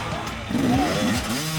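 Motorcycles race through a straight rhythm section at an enduro event in Tennessee, their engines revving and rising in pitch at close range under crowd noise and voices.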